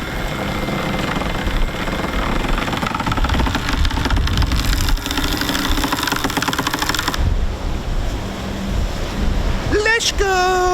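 A sailboat under way on the Red Sea, with steady rushing wind and wave wash across the hull, broadband and close; near the end a voice briefly speaks.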